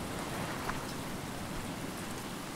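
Steady rain in the video game Stranded Deep, a dense, even hiss of falling drops pattering on surfaces, constant throughout with no voices.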